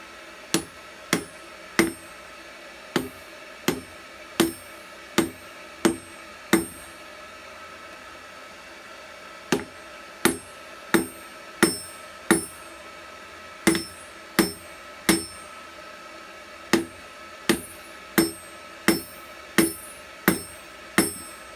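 Hot metal is struck on a homemade anvil in rapid bursts of sharp, ringing hammer blows, loud and close, with a short pause partway through.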